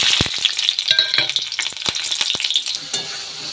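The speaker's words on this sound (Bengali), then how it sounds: "কালো জিরে ভাজা হয়ে গেছে, এখন আমি দিয়ে দিচ্ছি 3টে কাঁচা লঙ্কা।" Green chillies dropped into hot oil with black cumin, crackling and spitting close up with sharp pops and scraping stirs over a continuous sizzle.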